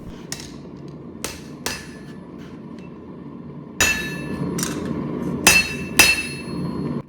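Hammer blows forging the steel tang of a kitchen knife ring out as sharp, metallic strikes, a few sparse hits early and then a cluster of louder, closer blows with short resonant decay.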